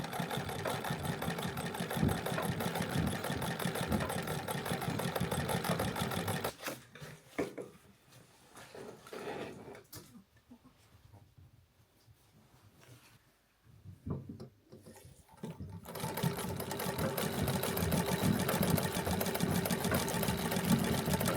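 A sewing machine stitches down the binding on a puppy quilt, running in two long steady bursts with a quiet pause between them, close and fairly loud with no talk.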